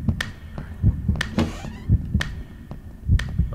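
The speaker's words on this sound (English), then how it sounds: "Bro, you can hear his heartbeat." A thumping heartbeat in the VR horror game Baldimore's Highschool, with deep low thuds pulsing in a steady rhythm about once a second, loud and close, over a faint hum and scattered sharp clicks.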